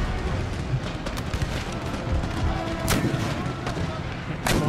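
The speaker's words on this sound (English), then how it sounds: "Engaging my gunners with musket fire." Musket volleys pop and crackle across an Empire Total War battlefield, scattered distant shots over a dense rumbling battle din, with a couple of sharper reports standing out.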